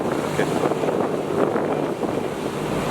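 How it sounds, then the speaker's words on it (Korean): Wind buffets the microphone aboard a ferry on the Chao Phraya River in Bangkok, a steady broadband rush with engine and water noise beneath, continuous and fairly loud throughout. "바람이 살랑살랑 불어서"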